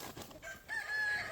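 Chickens, young birds out in the cold, giving faint high chirps and peeps behind steady background noise at moderate distance, with no one talking.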